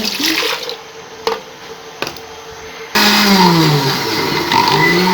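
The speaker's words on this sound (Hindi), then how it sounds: "दूध हमने डाल दिया इसमें, ये देखिए।" Milk poured into a blender jar, heard as a few short splashes and knocks before a loud, continuous rushing pour that fills the second half; close, with no speech over it.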